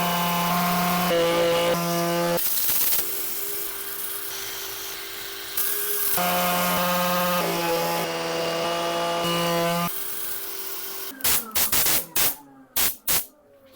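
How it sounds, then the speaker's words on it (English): Power sander working on wood, a steady whining motor hum that changes pitch as it runs, pauses briefly, resumes, then cuts off into a few short, sharp bursts near the end. "I'm going to set up for sanding"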